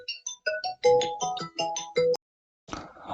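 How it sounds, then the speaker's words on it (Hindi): Phone ringtone from an incoming call plays a bright, repeating melodic tone sequence, loud and close, then stops abruptly, followed by a brief burst of noise. "तो एक मिनट फोन आ रहा है।"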